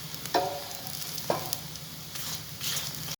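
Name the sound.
aloo paratha sizzling in oil on a pan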